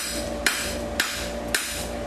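Three evenly spaced hammer blows ring sharply on a horseshoe heel caulk, close by, over a steady background hum.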